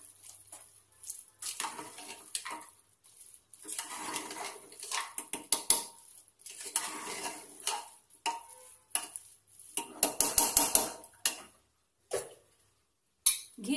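Zarda sweet rice being stirred and mixed in a pot, with irregular metallic scrapes and clinks of a spoon against the vessel, close and moderately quiet, in short bursts separated by pauses.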